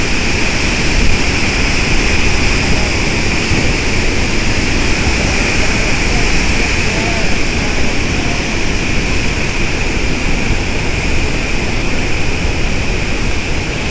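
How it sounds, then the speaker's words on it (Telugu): Water thunders through the dam gates of the Somasila project in Nellore district, a dense, continuous roaring rush that stays loud and steady throughout with no voices. "నా వాయిస్ కన్నా వాటర్ రియల్ సౌండ్ వినడానికి చాలా బాగుంది"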